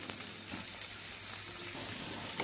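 Halved turkey berries (sundakkai) sauté in hot oil in a pan, giving a steady, close sizzling crackle with faint spatter that holds evenly throughout, with no voices.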